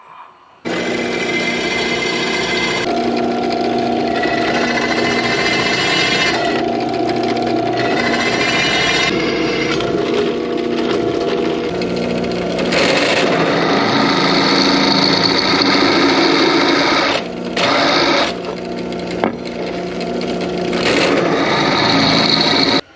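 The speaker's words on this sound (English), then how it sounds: "That there be a countersink." A power drill cuts a countersink, its high motor whine running steadily up close with brief pauses and pitch shifts as it bites into the material, and no one speaks.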